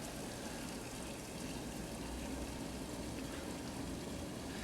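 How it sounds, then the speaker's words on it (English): Liquid nitrogen poured from a big thermos jug into a smaller thermos jug, a continuous rushing, gushing pour with steady loudness, close and unbroken for several seconds. "The big thing I'm pouring from is a big thermos jug. And the thing I'm pouring into is the thermos jug that you are familiar with."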